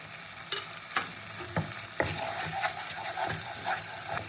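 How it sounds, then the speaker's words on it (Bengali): Masala spice paste with a little water frying and being stirred in a pan, giving a continuous sizzle broken by periodic scrapes and taps of the spoon against the pan. "দেবো অল্প একটু জল দিয়ে মশলাটাকে কষিয়ে নেবো"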